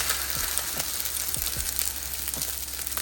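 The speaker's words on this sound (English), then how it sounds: "add my eggs right there" Eggs frying in a hot pan, a steady loud sizzle with crackling pops throughout, close up and with no voices.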